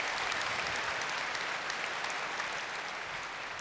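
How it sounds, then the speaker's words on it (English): Sustained applause from a crowd of about 21,000 at a tech conference keynote in Amsterdam. The dense, steady clapping fills the hall evenly with no voices over it. "Can you give them a big round of applause?"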